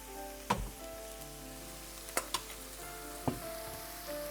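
Minced meat sizzles in a hot pan with garlic cloves, giving a steady soft hiss with a few distinct clicks and pops, heard up close and quiet with no voices.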